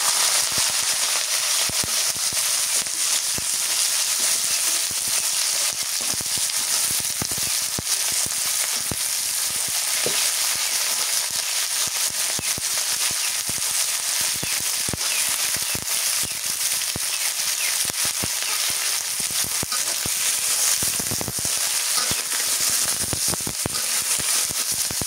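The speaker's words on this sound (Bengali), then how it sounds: "তেলের মধ্যে কাঁকড়াটা আগে ভালোভাবে ভেজে নিই" Crab fries in hot oil, producing a loud, dense, continuous crackling sizzle with rapid pops and spatters throughout, close and unbroken for the whole stretch.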